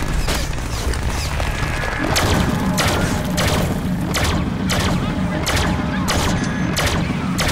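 Gunfire rattles at the player in the Deadpool video game, a dense, loud volley of rapid, booming shots that runs throughout, with talk over it.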